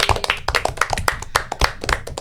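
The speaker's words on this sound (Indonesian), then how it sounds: "Tepuk tangan buat kita semua." A small group of people clap together in a studio talk-show setting, a quick dense burst of sharp, close hand claps running steadily for about two seconds.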